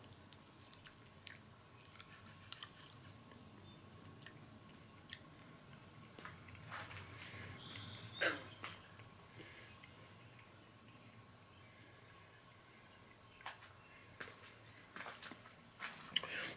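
A raw Dwarf Grey Sugar snow pea pod is chewed: soft, irregular crunching and clicking bites, faint and close, spread over a quiet background with a few louder snaps.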